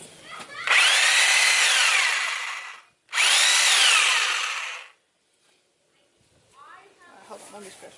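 A power tool cuts through a mobile chicken coop basket in two loud sustained bursts of about two and a half and two seconds, the second ending in a short pause, with faint handling noise and a voice afterward.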